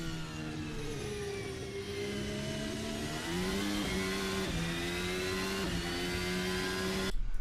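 A 2023 RSS Formula Hybrid race car in a racing sim at Barcelona, its engine holding a high, steady whine that climbs through gear shifts, loud and close, with no voices.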